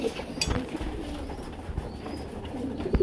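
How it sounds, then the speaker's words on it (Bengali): Pigeons at a pigeon farm of about ninety birds give soft, low coos and a few rustles, fairly close against a quiet background. "এই যে কবুতর গুলা দেখেন"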